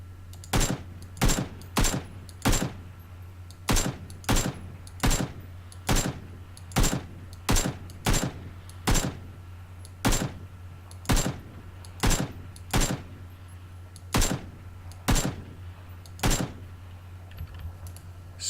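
A rifle in PUBG fires single shots, about twenty sharp cracks spaced unevenly at roughly one per second over a low steady background hum.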